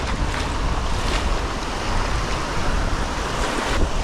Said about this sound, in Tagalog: Malakas na alon.